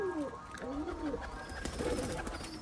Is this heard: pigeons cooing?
yes